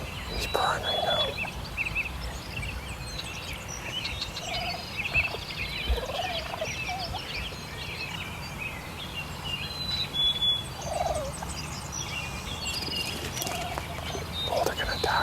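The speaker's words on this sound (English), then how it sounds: "He's purring right now." A wild turkey tom purrs and gobbles near decoys during a spring bow hunt in Ontario, with repeated bursts of gobbling over a soft outdoor background and faint whispered talk.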